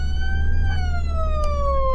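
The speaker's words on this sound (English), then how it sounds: "Come on, turn off siren." Police car siren in the video game Flashing Lights, a loud steady wail sliding slowly downward in pitch, with a low engine rumble beneath it and no talking.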